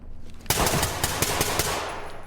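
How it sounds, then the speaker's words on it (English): Rapid automatic gunfire echoes from inside a college building in a video game, a dense burst of loud repeated shots after a quiet start, heard alone without talk. "Moving toward the building, we can already hear gunfire from within."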